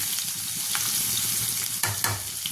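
Onion and garlic fry in a cumin tempering with a loud, dense sizzle and crackle throughout, broken by a couple of brief scraping stirs near the end.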